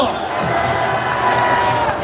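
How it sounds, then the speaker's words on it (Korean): A live audience at a Korean livestreamed event cheers and applauds, a dense, steady crowd roar with whoops and shouts running throughout at close, loud level. "이만나에게 큰 박수 한번 해주십시오"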